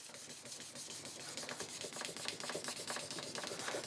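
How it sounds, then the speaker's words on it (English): Old oak knife handle being sanded by hand, a soft, steady scratchy rubbing in quick repeated back-and-forth strokes, close and fairly quiet. "I've been sanding and sanding and sanding."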